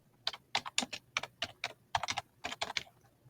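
Typing on a computer keyboard, entering a folder name, heard as quick bursts of crisp key clicks in irregular clusters with short pauses, close and clear with no talking.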